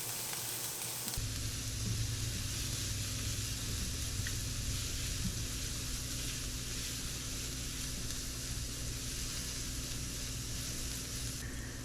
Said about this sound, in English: You just want to cook up this garlic a little bit.